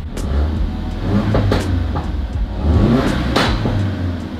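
A turbocharged Ford Focus RS/ST engine with an aftermarket intake drones from inside the cabin, with intake and turbo noise rising and falling over a few seconds and faint clicks and thumps.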